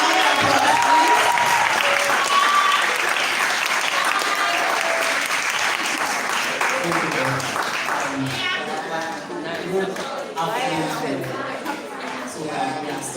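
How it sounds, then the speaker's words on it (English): Audience applause at a women's festival event welcomes a poet to the stage. The clapping is sustained and fairly loud, then gradually thins and fades, with a few voices murmuring underneath. "A round of applause, please."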